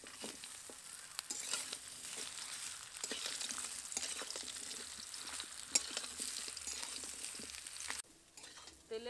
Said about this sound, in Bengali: তেলের মধ্যে আমের টুকরোগুলো দিয়ে বেশ কিছুক্ষণ নাড়াচাড়া করব